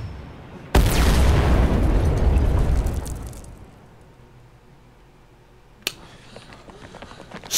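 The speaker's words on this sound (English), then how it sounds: "Well, that's a grenade." A grenade blows up in a video game with a sudden loud blast, and a rumbling roar follows for about three seconds before fading. A sharp smaller crack comes later.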